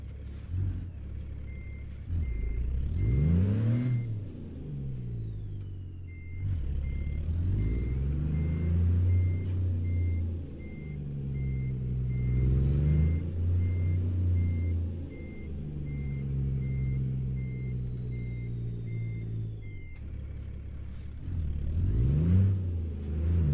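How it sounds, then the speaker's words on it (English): 18-wheeler in American Truck Simulator rolling through Phoenix, a low diesel rumble climbing and falling through gear shifts, with a steady intermittent beep and a whining tone riding above the engine. "passing through Phoenix in the 18-wheeler right now"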